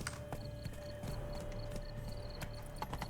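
Horse hooves clip-clop in the video game The Witcher 3, a quiet, steady walking rhythm of soft hoof beats over a faint ambient tone and background music.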